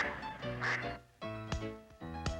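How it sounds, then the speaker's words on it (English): Ducks quacking at a local pond: a string of loud, nasal quacks in uneven bursts, close by, with a short pause midway and no voices. "The first thing they did was to go to a local pond and shoot over 10 minutes of ducks."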